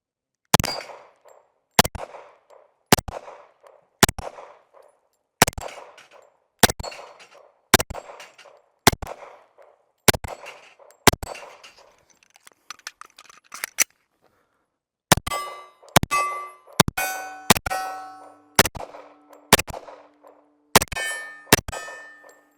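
H&K USP 40 pistol shots ring out on steel targets in sharp, evenly spaced cracks each followed by a metallic clang, with a short pause midway then a faster string of shots.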